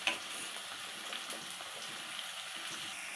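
Sliced onions and cumin seeds frying in oil in a pan for egg fried rice, a soft, even hiss of sizzling that stays faint and steady throughout with no talking.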